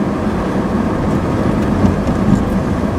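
Steady rain hissing over a car's low road rumble on a morning drive to work, a constant wash of noise with no talk.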